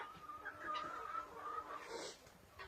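Young chickens in a village yard cluck and chirp softly in the distance, faint and scattered over a quiet background.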